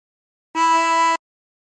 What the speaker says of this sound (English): And blow into 6.